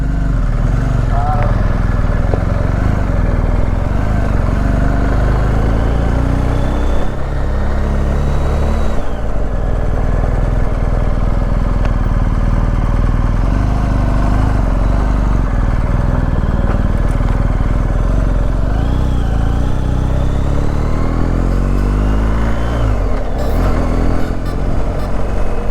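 A 2022 BMW R 1250 GS motorcycle engine runs steadily on a ride with a passenger aboard, a continuous loud drone with wind rush and shifting pitch throughout.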